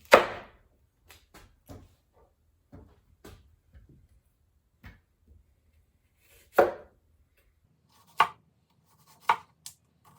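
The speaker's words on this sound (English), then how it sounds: "let's start off by dicing half of an onion" Half an onion being diced on a cutting board: a dozen or so sharp, separate knife chops at an uneven pace, close and clear against silence.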